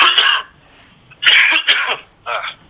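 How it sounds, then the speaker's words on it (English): A man coughs during an indoor interview: two or three short, harsh bursts with pauses between, close and fairly loud. "I'm going to cough here."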